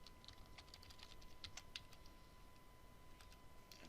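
Computer keyboard keys clack in an irregular, quiet patter as code is typed, close and alone, with a faint steady tone in the background.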